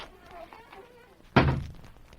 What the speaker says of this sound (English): Bascom, you can close the door